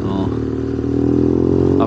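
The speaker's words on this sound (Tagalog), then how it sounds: "Aprila na scooter to." An Aprilia 150 scooter engine runs close by with a steady mid-pitched hum and a slight rise in intensity near the end, with someone talking over it.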